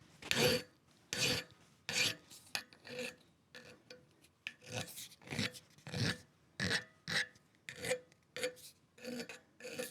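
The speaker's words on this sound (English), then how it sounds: "So I'm gonna file this now." A hand file rasps across a metal bicycle stem part in steady back-and-forth strokes, about a dozen distinct bursts with short gaps, close and fairly quiet, in a workshop with no talk.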